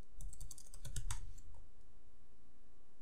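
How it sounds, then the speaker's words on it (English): Quick run of clicky computer keyboard keystrokes, about a dozen taps close together over just over a second, then quiet room tone. "Switch back to the terminal. And type npm test."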